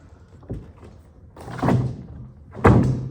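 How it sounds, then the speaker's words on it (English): An old door to nowhere is knocked loose and removed, giving three dull thumps and knocks that grow heavier, the last a solid thud close by. "now we need to take off this door"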